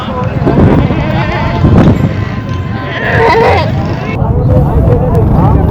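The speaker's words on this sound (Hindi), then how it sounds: "ये बकरे" Goats bleating at a crowded livestock market in Karachi, several loud overlapping cries near and far over steady crowd chatter and people talking close by.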